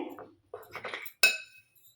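Spoon mixing sugar and salt into food in a bowl, a few short scraping stirs followed by one sharp metallic clink, close and quiet with silent gaps between.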